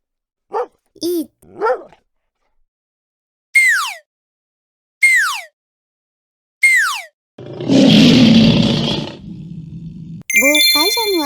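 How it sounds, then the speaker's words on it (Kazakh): A lion's roar in a collection of domestic and wild animal sounds: a loud, rough roar of about two seconds, then a lower rumble. Before it come several short yelping calls, and bright chiming tones follow at the end. "Бұл арыстанның дауысы."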